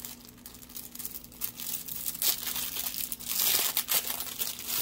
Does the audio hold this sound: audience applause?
no